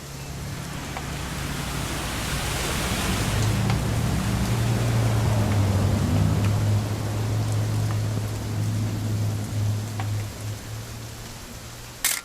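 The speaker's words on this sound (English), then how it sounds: "It's gonna rain the whole weekend," Steady rain hisses throughout a scene in the video game What Remains of Edith Finch, a dense broadband wash under a low droning hum, with a brief knock near the end.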